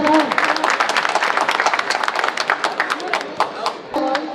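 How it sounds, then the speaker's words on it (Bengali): A crowd applauds at a pigeon racing club's prize distribution ceremony, giving dense, steady, fairly loud clapping for about four seconds, with brief voices at the start and end. "Clap your hand."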